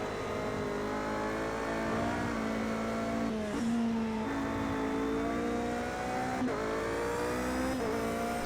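Toyota endurance race cars lapping Indianapolis in a sim racing league, a steady loud engine drone whose pitch rises and falls through gear changes and shifts, with no voices.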